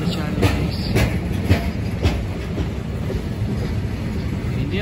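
Indian Railways WAG7 locomotive hauling a train of BCN covered goods wagons, loud close rumble with rhythmic clickety-clack of wheels over rail joints; a voice speaks briefly over it.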